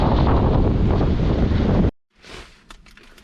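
An Icelandic waterfall roars as a loud, dense rush buffeted by wind on the microphone, then cuts off abruptly to near silence, leaving only faint scattered sounds.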